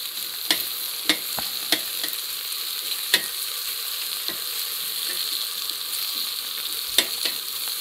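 Bacon fries in a pan for a rustic paella, with a steady close sizzle of rendering fat and sharp pops and scraping clicks from stirring at irregular intervals.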